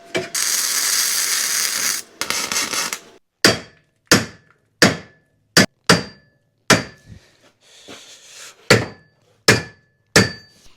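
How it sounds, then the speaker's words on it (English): A harsh scraping buzz opens, followed by about ten sharp metallic hammer blows on a Toyota RAV4's metal bumper piece with ringing decay, spaced irregularly, loud and close. "I made this T-piece that I can hammer from either side"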